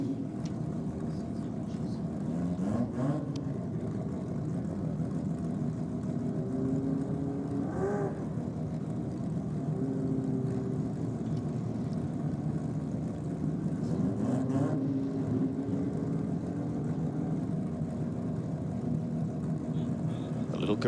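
A drag racing car idles and burbles through staging at a Grudge Kings meet, a low steady engine drone with a few brief revs over crowd noise and a commentator talking.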